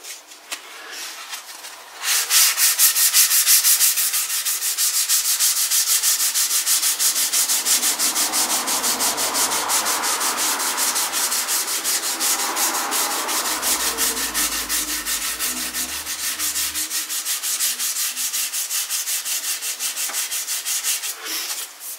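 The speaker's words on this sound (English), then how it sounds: "I don't want to get the sanding onto the binding" Steady, rhythmic scratching of sandpaper rubbed back and forth over a wooden PRS-style kit guitar body, close and continuous for about twenty seconds, with no talking.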